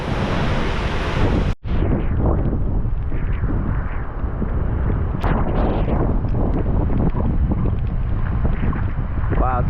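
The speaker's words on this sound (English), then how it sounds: "Wow, some of these wind gusts are crazy." Strong wind gusts during Hurricane Ian roar and buffet the microphone in a loud, unbroken rush, with a brief dropout early on and faint splashing and rattling beneath.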